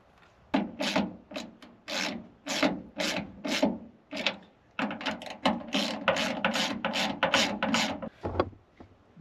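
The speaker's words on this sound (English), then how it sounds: "we're going to take the two 13mm concentric nuts and bolt it down" A hand ratchet tightens two 13mm concentric nuts on a ditch light bracket for a Mercedes Sprinter, giving close bursts of rapid clicking strokes with short pauses between them and no voices.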